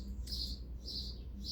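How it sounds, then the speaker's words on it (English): Birds chirp loudly and repeatedly outdoors, high bright calls recurring in bursts every half second or so over a steady low background rumble, with no talking. "the birds are just so loud."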